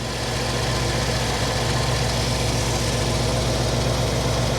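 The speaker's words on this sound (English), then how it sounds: "But the idle is a little higher, clearly." A Jeep CJ-7 with an AMC 304 V8 idles steadily and loudly up close, its low, even rumble running unbroken for several seconds with no voices over it.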